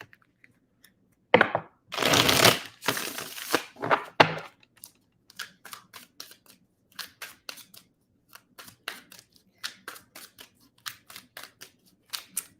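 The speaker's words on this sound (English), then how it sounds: "Let me just get a good shuffle, cleanse the cards pretty good before I start Capricorn." Tarot cards being shuffled close up: a few long riffling bursts early on, then a run of short, crisp snaps and taps.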